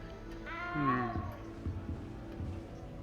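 A cat meows in the video game Hogwarts Legacy, a single drawn-out, rising and falling meow up close, followed by a few soft thumps over faint game ambience.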